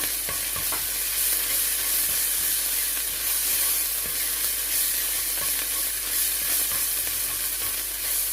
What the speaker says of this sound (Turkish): Şimdi soğan kavururken soğan ilk başta yağı kendine çekiyor.